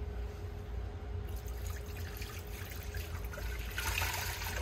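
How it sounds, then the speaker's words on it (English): Milk and water poured into a mixing bowl for hamburger bun dough, a steady close trickle and splash of liquid running the whole time with no talk over it. "Now we're going to add our milk and water"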